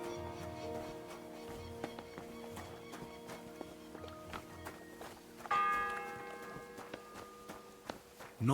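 A church bell tolls in the medieval video game Kingdom Come: Deliverance 2, with ringing tones that hang and decay while footsteps or hoof-like knocks tap irregularly, then a louder bell strike rings out midway.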